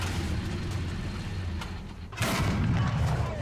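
A tank cannon fires in War Thunder, a deep booming shot with a thudding blast that lands partway through, set against a steady rumbling background of engine and battlefield noise.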